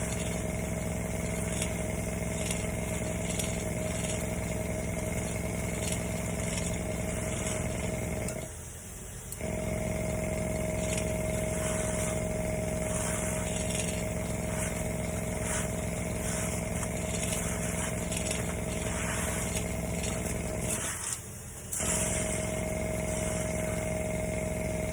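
An airbrush sprays Alclad II metallic chrome onto foam at about 16 PSI, a steady hiss over a droning compressor that cuts out briefly twice.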